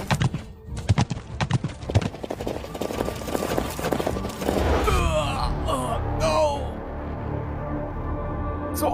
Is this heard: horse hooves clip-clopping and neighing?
yes